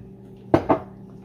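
Two quick metallic scrapes ring out as a spoon stirs duck curry in a pot, close and distinct, over a faint background hum.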